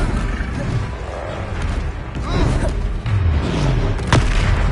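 Fire spell blasts in the Hogwarts Legacy game, with booming explosive bursts over a rumbling, busy battle mix, loud and repeated.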